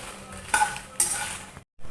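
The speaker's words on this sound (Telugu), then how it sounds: "మార్చకుండా కంటిన్యూస్గా మిక్స్ చేయండి" Dried red chillies stirred continuously in a pan over a gas flame for a Telugu gongura chilli pachadi, giving a dry rustle with scraping clinks of a metal spoon against the pan, two sharper knocks, then a brief silence.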